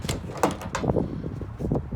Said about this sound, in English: Let's get this door open over here.